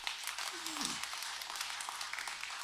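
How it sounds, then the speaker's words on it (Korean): A church congregation at a Sunday service applauds in thanks, a soft, even spread of clapping across the room, with a brief voice sounding faintly underneath. "우리 하나님께 감사의 박수 올려드릴게요."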